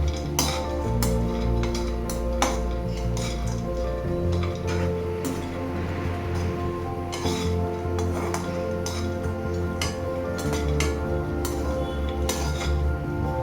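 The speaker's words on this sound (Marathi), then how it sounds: "आता आपण काजू पण मंद आचेवर भाजून घेऊया।" Cashews are dry-roasted over a low flame in a pan while being stirred, giving a steady run of light clinks and scraping rattles from the nuts and spoon, close and continuous with no talk.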